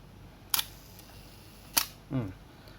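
A Minolta SR101 film camera shutter fires at a one-second speed, giving a sharp click as it opens, a second crisp click as it closes, and then a softer mechanical clack, heard up close in a quiet room.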